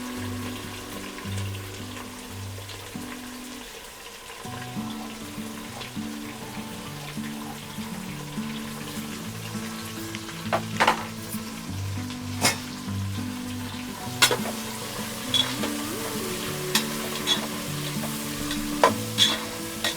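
Four large onions sauté in oil toward golden brown, giving a steady close sizzle with periodic crackling pops and scraping stirs, while a low tonal hum runs underneath.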